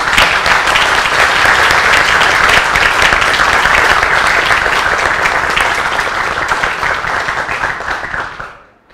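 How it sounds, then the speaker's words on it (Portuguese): A lecture audience at a university mathematics institute's 60th-anniversary event claps in sustained, dense applause that stays loud for several seconds and then fades out quickly at the end, with no speech over it. "Mas agora sim, uma salva de palmas."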